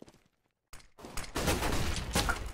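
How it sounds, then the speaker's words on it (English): Grenades and flashbangs go off in a CS:GO match, a short quiet stretch followed by sudden loud bursts that build into a dense, continuous clatter of blasts and gunfire. "Massive nades and flashes right now inside the A-bomb side"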